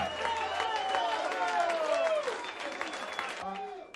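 An audience applauds a band at a rock concert in Rome, with dense, continuous clapping and crowd noise under voices and whistles, easing off toward the end.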